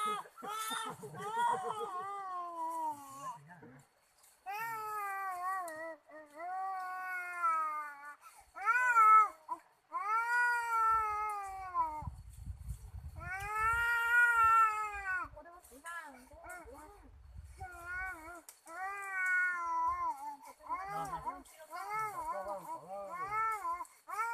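A cat meows over and over in drawn-out, rising and falling cries, close and fairly loud, with a few short gaps between calls and a low rumbling patch in the middle.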